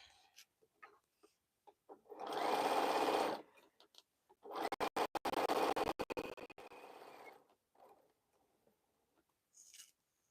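Sewing machine stitching straight through pins on a quilt in two short close bursts, separated by quiet handling noises, with a faint tick near the end and no talking.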